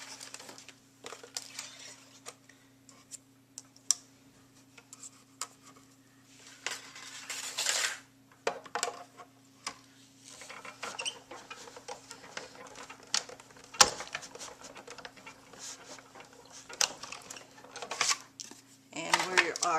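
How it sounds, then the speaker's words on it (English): A Big Shot die-cutting machine cranking cardstock through for a thanks die and a scallop, giving irregular clicks, rattles and grinding bursts over nearly twenty seconds under a steady low hum, with a person talking at times. "the next thing we're going to do with the Big Shot is we're just going to cut out the thanks and the scallop"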